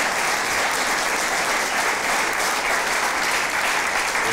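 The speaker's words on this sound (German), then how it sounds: "Applaus, Applaus," Loud, steady applause from a crowd welcoming a guest at the Sächsisches Haus during the 2006 Turin Winter Olympics, continuous and close with no pauses.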